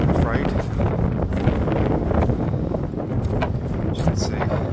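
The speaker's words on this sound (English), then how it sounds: "Let's get out of this wind. Too much wind." Strong wind buffets the microphone at Rye beach, a loud continuous roar and rumble with no break throughout.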